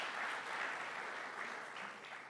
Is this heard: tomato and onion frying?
no